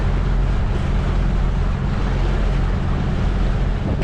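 Force 3 wind blowing across an open lake during a narrowboat crossing on the River Shannon: a steady, loud rumbling buffet against the microphone with a hiss of water beneath, continuous and unbroken throughout.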